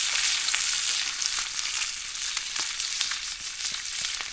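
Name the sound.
fish frying in hot oil on a pan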